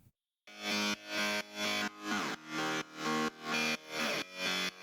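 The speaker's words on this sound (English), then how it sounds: "Bit of distortion with the Camel Crusher." A gritty synth distorted with the Camel Crusher plugin plays a repeating progressive house chord stab, about eight punchy hits in a steady rhythm, each note buzzing and harmonically rich.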